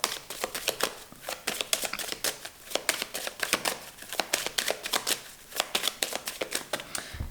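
A deck of tarot cards is shuffled by hand in a quiet room, giving a steady run of crisp, close riffling flutters in quick irregular bursts with no talking.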